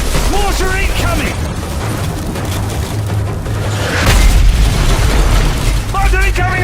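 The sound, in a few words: mortar explosions in video game Modern Warfare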